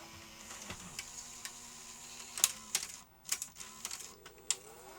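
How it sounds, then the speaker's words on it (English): A Sony SL-HF950 SuperBeta Betamax VCR with a snagging, faulty tape path rewinds a tape, giving a steady whirring mechanical hum broken by sharp ticks and clicks, heard close and alone. "Rewind the tape a bit."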